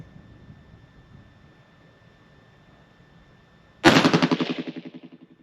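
A single loud report from a High Standard DM101 derringer firing .22 Magnum rings out after a quiet stretch of faint background hum, followed by a rapidly pulsing, decaying echo.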